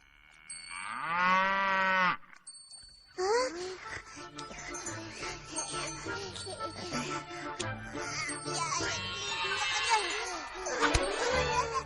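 A human voice imitates a calf mooing, one long drawn-out low moo up close, followed by chatter and playful talking voices with a faint jingle.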